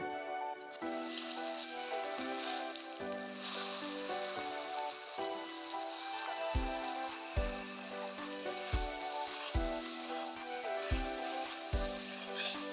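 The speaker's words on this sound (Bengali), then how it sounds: "আমি এখন বেগুনটাকে ভেজে নেব।" Eggplant frying in hot oil seasoned with salt and turmeric for a Bengali greens recipe gives a steady, soft sizzle throughout, with stepped background music playing over the crackle.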